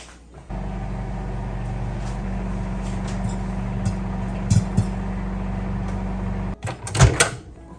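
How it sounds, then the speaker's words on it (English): A microwave runs with a steady low hum after its door shuts near the start, heating a glass dish of popcorn kernels; a couple of small clicks sound mid-run and louder clunks come near the end. "so we're gonna pop this in the microwave"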